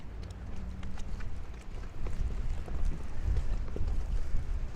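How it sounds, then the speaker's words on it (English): Gusty wind roars against an umbrella outdoors on a snowy street in Bensonhurst, Brooklyn, a low, steady buffeting rumble that strengthens midway, loud and close to the microphone. "I am fighting wind"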